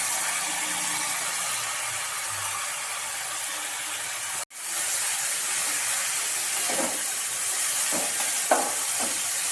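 Cut ash gourd pieces join potatoes frying in a pan, producing a continuous hissing sizzle that briefly breaks, then returns louder with a few light stirring taps.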